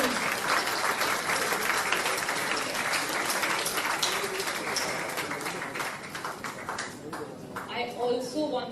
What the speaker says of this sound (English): Let's give a big round of applause to our young novelist Zuni.